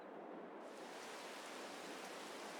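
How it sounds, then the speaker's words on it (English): Steady broadband rain hiss in Farming Simulator 22, a dense, even wash of falling rain with no breaks, moderately loud and heard alone without voices. "Rain is not ideal."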